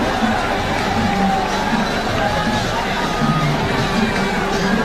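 A cricket stadium crowd cheers a boundary struck through the covers against Pakistan, a loud, continuous roar of many voices with shouts, whoops and babble rising and falling throughout.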